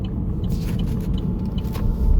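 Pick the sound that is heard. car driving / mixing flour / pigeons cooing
car driving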